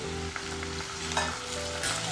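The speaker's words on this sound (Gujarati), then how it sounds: "આપણે લગભગ 1 થી 2 ચમચી જેટલું પાણી એડ કરી દઈશું, જેથી કરીને સરસ રીતે વરાળ થાય અને એની વરાળથી ટીંડોળા ચડી જાય" Ivy gourd cooks in an open pan with a spoonful or two of water added, giving a steady close sizzle and brief stirring scrapes over a low hum, with no talking.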